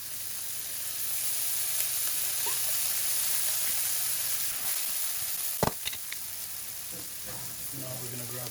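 Filet mignon frying in oil in a pan, a steady close sizzle and hiss running throughout, with a brief clatter of utensils partway through.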